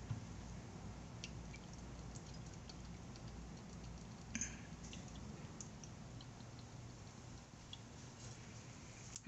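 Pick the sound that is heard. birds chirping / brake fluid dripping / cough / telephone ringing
brake fluid dripping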